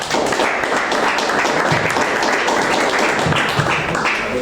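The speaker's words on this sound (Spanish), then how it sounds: "Un aplauso para ella." Loud, close clapping from a small audience greeting a Chilean poet at a poetry reading in Libardón, a dense steady patter lasting the whole few seconds with no talk.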